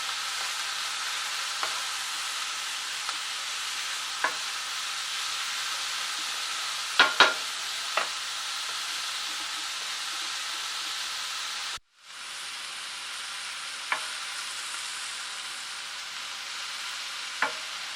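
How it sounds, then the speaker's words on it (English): Vegetables sauté in a pan for cornbread dressing, a loud, continuous hissing sizzle with scattered light spoon taps, briefly cutting off before resuming just as strongly. "you're just sauteing this off, until it cooks down"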